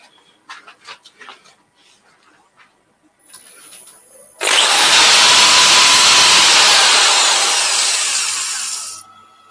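A turned wooden piece is sanded on a lathe with 80 grit sandpaper, a loud, steady abrasive rush lasting several seconds after some quieter workshop knocks and a thin whine.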